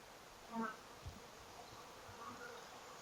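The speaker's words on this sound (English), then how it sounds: "there's plenty of bees in there, plenty of activity going on" A steady, faint hum of many honey bees buzzing together inside a strong, healthy hive, continuous and low, with occasional closer buzzes rising briefly above the drone.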